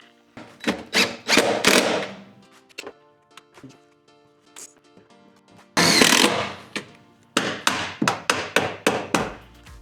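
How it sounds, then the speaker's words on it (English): A power driver sends screws through a sheet metal cleat into a basement joist: short bursts of whirring and rattling metal, several in a row, with clunks and thuds between them, close and loud. "I can put a screw through here into the joist and do the same thing on the other side"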